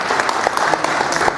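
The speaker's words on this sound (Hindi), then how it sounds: "इसके लिए जोरदार ताली हो जाए" Brief burst of audience clapping at a business gathering, dense and steady with a few sharper individual claps standing out over the wash.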